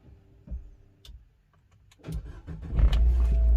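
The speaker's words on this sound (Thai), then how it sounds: "เสียบกุญแจ สตาร์ทครับ" An MG3 car is started with a newly made key: soft clicks and key sounds, then the engine cranks and catches into a steady idle, loud and close.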